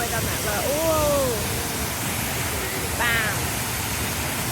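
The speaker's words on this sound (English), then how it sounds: "And there's the waterfall." Waterfall on Mount Rinjani roaring steadily as a broad rushing hiss of falling water, with people's voices exclaiming briefly over it.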